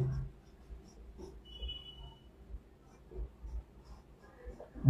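Pen scratching across paper while a Bengali math solution about cement quantity is written out, soft intermittent strokes and scrapes close by, faint and quiet with light breathing and room noise.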